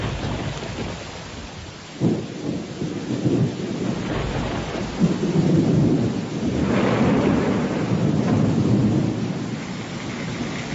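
Steady heavy rain with low rumbling thunder rolling through in the Chernobyl area, a sharp crack near the start and longer swells later, no voices.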